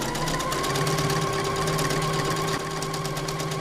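A Fadimex sewing machine stitches at a fast, even pace, its motor humming under a rapid mechanical clatter that holds steady throughout at close range.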